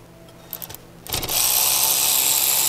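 Milwaukee right-angle power tool removing the fan on a Volkswagen Audi 2.8 30v engine: a few short clicks and bursts, then a sustained high-pitched whirring run that continues to the end.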